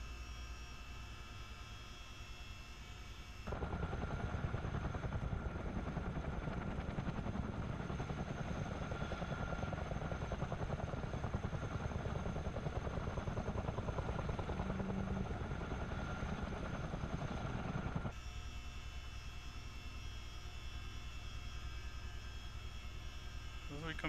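A helicopter in the video game Microsoft Flight Simulator 2020 gives a loud, steady rotor and engine drone through the middle of the clip, with a quieter background before and after.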